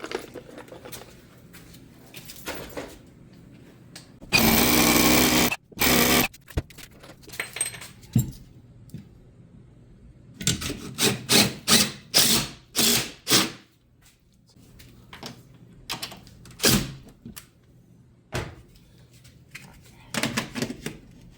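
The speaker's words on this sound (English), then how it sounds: "Let me grab the drill." Power drill driving Tapcon screws into cinder block while mounting a computer screen, heard as several loud bursts of whirring and grinding separated by pauses and handling clatter.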